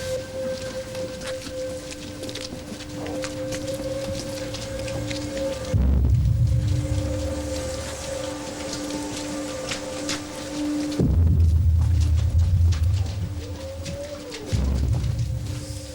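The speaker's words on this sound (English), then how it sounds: "The explosions reverberate through the tunnel." Blasting charge explosions in a Bolivian tin mine tunnel, three heavy low booms a few seconds apart, each rumbling and reverberating, with a steady tonal hum running underneath.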